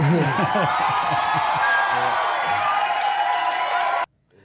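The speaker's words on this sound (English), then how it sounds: "Little hand claps going on there, man." Crowd noise with cheering and whoops from an audience, loud and sustained with chanting voices mixed in, cutting off abruptly near the end.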